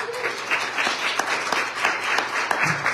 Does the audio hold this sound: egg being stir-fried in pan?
no